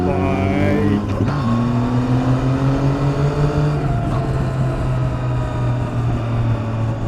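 A Triumph Street Triple 675 R motorcycle ridden on the road, its triple-cylinder engine droning steadily with pitch shifts as it changes speed, loud and close throughout, alone with no talk.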